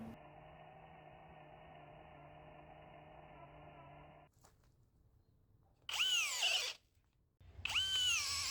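A STEEL 4-in-1 kit power drill set to its lowest speed, with the most torque and least rotation, bores a hole. A steady motor hum runs for about four seconds, then after a pause come two loud, higher whining bursts.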